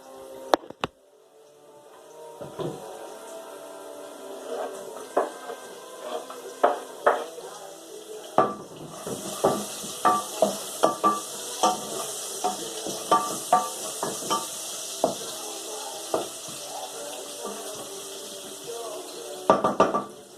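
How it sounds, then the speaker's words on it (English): Garlic fries in a pan on the stove for a foraged mushroom and chilli spaghetti, with a soft sizzle under repeated clicks and scrapes of a utensil stirring, and a brief voice at the start. "I think it's about time for the garlic to go in."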